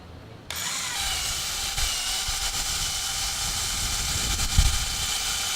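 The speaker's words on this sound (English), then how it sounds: "when I go into the wall, it's basically going to puncture through the stucco" A power drill bores through stucco into the wood behind it while a sagging gate is being repaired, a close, steady whine that starts abruptly and keeps grinding evenly for about five seconds.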